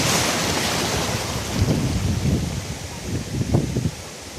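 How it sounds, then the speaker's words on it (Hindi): Sea waves wash ashore at Mubarak Village beach near Karachi, a broad surf hiss with gusty wind buffeting the microphone and several low surges rolling in. "क्या खूबसूरत पानी है, मौसम और समुंदर इस वक्त भरपूर जोबन में।"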